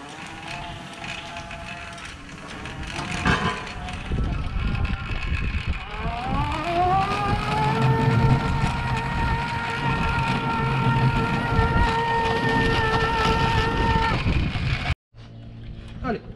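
An electric bicycle motor driving a go-kart trolley, whining up to a sustained high-pitched tone that holds steady before cutting off abruptly, with voices in the background.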